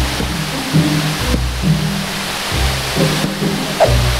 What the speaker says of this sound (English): Are we gonna find anything at the top of the waterfall? It's impressive. It's enormous.